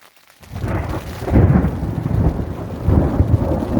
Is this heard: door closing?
no